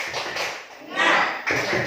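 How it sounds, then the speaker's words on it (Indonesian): A group claps a rhythmic 'tepuk semangat' pattern during a teachers' gathering at a school, loud and close, with bursts of patterned taps over a few seconds. "Baik Bapak Ibu, mari kita tepuk semangat."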